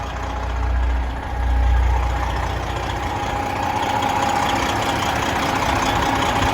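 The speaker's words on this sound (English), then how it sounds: "It's American Fleet Services crate motor that was dropped in it." 2015 Kenworth T800 triaxle glider kit heavy-haul sleeper truck with an American Fleet Services crate motor, idling as a steady low diesel rumble heard close and alone.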